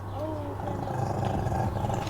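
A dog growls low and rumbling at close range, a sustained throaty sound with faint background noise and no speech.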